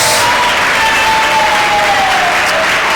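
Loud, continuous applause from a church congregation during a Sunday school service, many hands clapping together in an even roar that holds steady throughout, with faint sustained tones ringing in the background.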